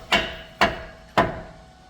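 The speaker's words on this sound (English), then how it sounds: "This is a brass hammer," A brass hammer strikes a front wheel bearing assembly on a 2015 Kia Sportage four times, sharp metallic bangs spaced roughly half a second apart, each ringing briefly before fading, with no talk.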